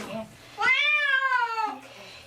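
A pet cat lets out one long, drawn-out meow during its first bath, loud and close, with a person's soft voice briefly before and after.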